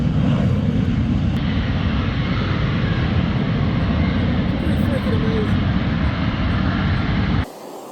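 A ducted-fan VTOL airplane with Harrier-like capability performs at the Oshkosh airshow, its engine a loud, steady roar heard from a distance that cuts off abruptly near the end.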